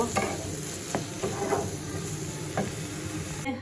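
Curry sautéing in a pan on a home stove, with steady sizzling and frying under several scraping stir strokes, close and moderately loud, no talking.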